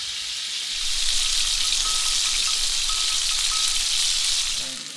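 Lobster sizzles loudly in a hot pan with compound butter and a sprig of rosemary, a dense, continuous frying hiss with faint crackles, swelling slightly after the start and easing off at the very end.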